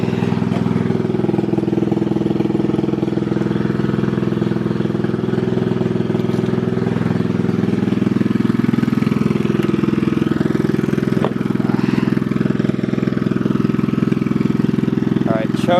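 LT1000 lawn mower engine running steadily after a cold start, a constant mid-pitched drone throughout, close and loud, with a few faint clicks and people speaking quietly over it.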